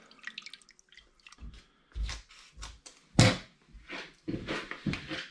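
A tomato paste wash for distilling is gently stirred, producing soft intermittent sloshes, drips and splashes of liquid, close by, with brief quiet gaps between movements.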